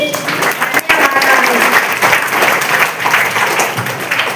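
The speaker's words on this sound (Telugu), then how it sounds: "అందరూ కలిసి చప్పట్లతో అభినందించండి." A group of schoolchildren claps together in sustained, dense applause after a correct answer at a general-knowledge quiz in a school classroom, loud and steady throughout with a brief dip near the start.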